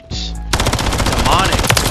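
Rapid, loud automatic gunfire in the Call of Duty video game Black Ops 6, a fast close burst of shots after a short electronic tone.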